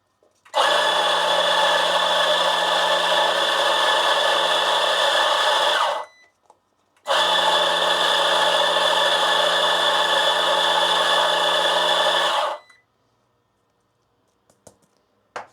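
A Kainos coffee grinder purges leftover beans in two loud, steady grinding bursts of about six seconds each, separated by a short pause, followed by a few faint clicks.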